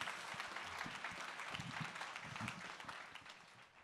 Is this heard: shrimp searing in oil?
no